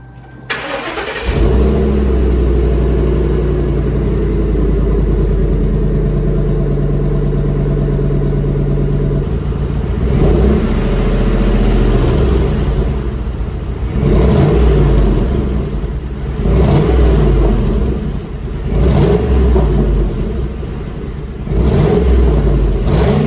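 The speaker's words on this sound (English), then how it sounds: "we'll crank it up and we'll give it a couple revs, see what it sounds like" A 2010 Ford Crown Victoria Police Interceptor with a newly fitted exhaust cranks over, settles into a steady idle, then gets several short, loud revs that swell and fall back to idle, recorded up close with no talking.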